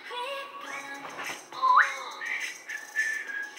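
Melodic whistling from a song, a clear tune of rising and gliding whistled notes in short phrases, close and moderately loud with no talk.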